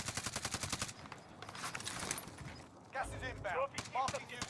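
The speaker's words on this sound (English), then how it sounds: "Guns." Rapid bursts of automatic gunfire in the Warzone Iron Trials 84 battle royale game, a steady train of close shots for about a second, then scattered fire under game noise as players talk over it.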